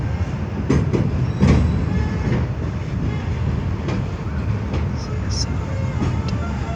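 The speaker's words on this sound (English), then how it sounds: "Be an 8-car train, I reckon." An eight-car commuter train, Class 465 and 466 units, rolls into London Charing Cross station with a steady rumbling roar and periodic clunks of wheels over rail joints, loud and close, while people talk now and then over it.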